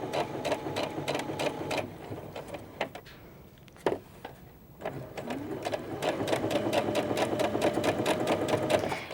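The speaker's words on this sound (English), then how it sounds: "And now I am just top stitching." A sewing machine runs steadily as it top-stitches a vintage skirt along horsehair braid, making a close, rapid mechanical chatter that pauses briefly with a few clicks of handling before resuming at full speed.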